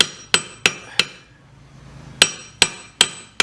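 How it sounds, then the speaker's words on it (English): Hammer blows ring out on silver being worked flat on the anvil at the back of a vise: four sharp metallic strikes, a short pause, then four more, each bright and close with a brief ringing decay. "I'll put it on my vise, on my anvil, on the back of my vise, and I'll work that down flat"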